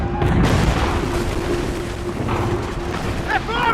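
Enemy cannon fire in Assassin's Creed III: heavy booms roll out under shouting game voices, with a sustained low rumble and scattered crackling throughout.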